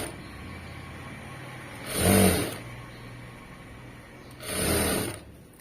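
A sewing machine stitches thread piping in two short, quiet bursts of rapid whirring a few seconds apart, over a low steady background hum.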